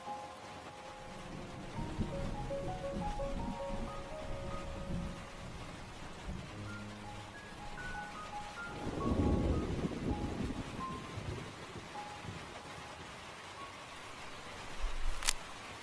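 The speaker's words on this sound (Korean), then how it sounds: "겨울로 접어드는 차가운 비가 내리면서 도시엔 갑작스레 서글픔이 밀려들었다." Cold early-winter rain falling over a city, a steady soft hiss with a faint low rumble swelling midway, heard alone at a gentle, distant level.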